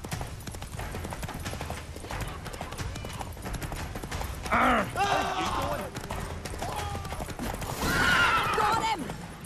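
Geralt's horse Roach in The Witcher 3 on PS5 gallops with steady clip-clop hoofbeats and gives two loud, close whinnies, alongside game sound effects.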